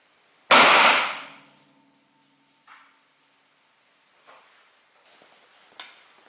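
A single sharp, loud report from a Ruger LCP .380 pistol firing Federal ammunition outdoors, ringing briefly and decaying, followed by faint clicks and handling noises.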